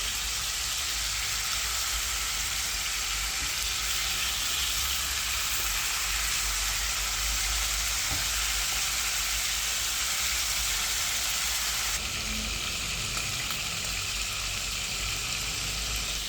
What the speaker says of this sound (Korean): 이렇게 조금 두껍게 크러스트가 생길 때까지 잘 구워주세요